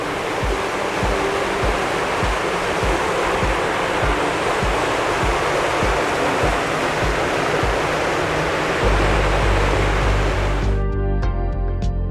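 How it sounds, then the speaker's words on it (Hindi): Clear mountain river water near Uttarkashi rushes loudly and steadily over stones in winter, a dense continuous roar close by that sounds alone throughout with no voices. "पानी की आवाज"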